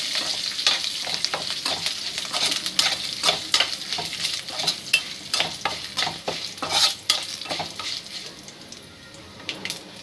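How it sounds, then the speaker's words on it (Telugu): Mustard seeds and curry leaves pop and crackle in hot oil while a tempering for gongura curry is stirred, with rapid irregular spluttering bursts heard up close throughout and slowly thinning toward the end. "చిటపటమంటే కొంచెం దూరంగా ఉండండి."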